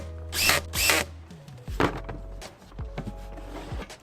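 A power driver drives small screws into a latch on a YakAttack BlackPak Pro crate in two quick bursts of whirring, followed by lighter clicks and short buzzes from handling the parts nearby.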